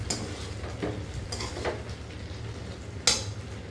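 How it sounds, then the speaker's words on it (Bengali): A spoon stirs banana flower and prawns in a cooking pan, giving soft scraping and clinking sounds over a low sizzle. There is a sharper clack near the end, and no one speaks. "এবার এটাকে আবার নাড়ে চাড়িয়ে ঢাকা দিয়ে দেবো।"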